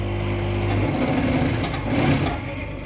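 A sewing machine hums steadily and loudly throughout while a lined sleeveless dress is being stitched, with a low motor drone at the start and no talking.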